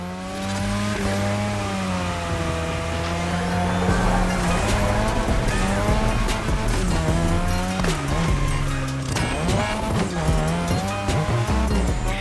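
Sustained tire squeal from a car drifting on a drift track in the game The Crew Motorfest, wavering pitched screeches over a revving engine, loud and continuous with shifting tones throughout.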